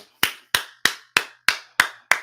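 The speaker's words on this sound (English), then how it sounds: "Applause." Seven sharp, evenly spaced claps or taps, each a crisp isolated hit with a short decay, close and moderately loud, with no voices.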